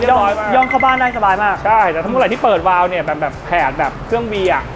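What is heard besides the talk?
No everyday noise stands out behind the speech.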